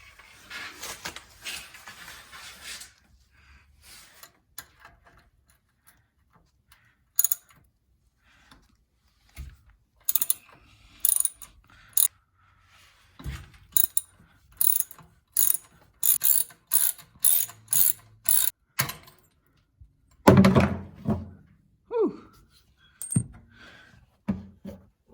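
A ratchet on an old Volvo Amazon 122 removes half-inch bolts, its pawl clicking in quick repeated bursts separated by pauses, with a few metallic clanks, close and clear and with no talking.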